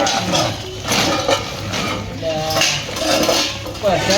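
Metal pots, lotas and utensils clank and clatter loudly and repeatedly, with ringing metallic hits close by, while people talk in the background at a street vendor's utensil stall.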